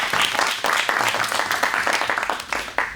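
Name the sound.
audience applause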